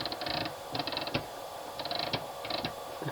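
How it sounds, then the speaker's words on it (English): Hand crank on a folding machine turning to raise and lower the table, giving clustered metallic ratcheting clicks and creaks in short bursts, close and fairly quiet with no talk. "this supports your axle rod for your table, which is this section here, which goes up and down by using the crank"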